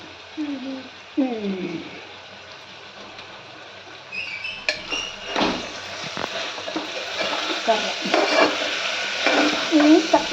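A spoon stirs moong dal curry in a pan with repeated scraping, wet squelching and light clinks, close and fairly clear, while a voice briefly talks over the stirring.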